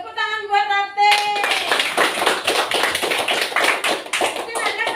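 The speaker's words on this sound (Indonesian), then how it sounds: "tepuk tangan buat Ratih" Classroom clapping for a student named Ratih: after a short sung or spoken tone, a burst of close, loud hand claps rings out in quick irregular rhythm, with a voice briefly audible near the end.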